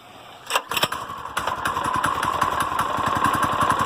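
Manco small engine, cold-started, then left idling at half choke: a few sharp pops and bursts at the start settle into a steady, fast, rhythmic putter heard up close with no talking.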